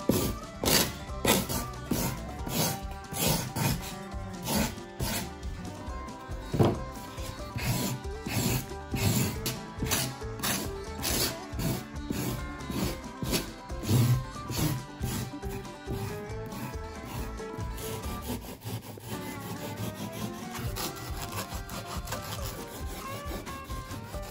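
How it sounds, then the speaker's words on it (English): A hand rasp shapes foam to round the corners of castle towers, steady rhythmic scraping strokes repeating close up, loud and alone throughout. "Now I go in with my rasp and round out the corners further."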